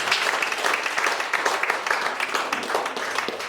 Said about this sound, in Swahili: Piga Yesu makofi.